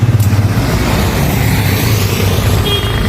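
Close and loud, a motor tricycle's engine chugs in a steady low rhythmic throb, pulsing a little harder at the start before settling into an even idle.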